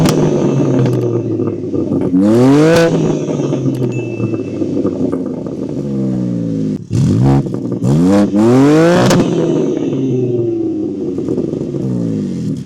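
Loud engine revving from a BMW G80 M3 Competition with quad exhaust, several sharp throttle blips rising and falling between idle stretches, close and clear with no talking.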